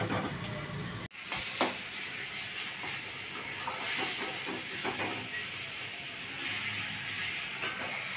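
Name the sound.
jute leaves frying in pan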